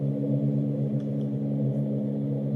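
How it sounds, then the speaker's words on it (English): A looping bass sample, processed with EQ, compression and gain, hums as a steady low sustained drone at moderate level with no voices. "this sound you're hearing right now is the bass sound"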